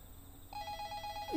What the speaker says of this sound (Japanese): 近くで電話が鳴り響いてる